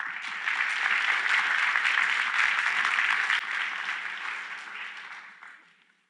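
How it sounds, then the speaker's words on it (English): A conference audience claps for the next speaker at a lightning-talk session, steady applause swelling quickly then fading out over several seconds. "Give her a round of applause."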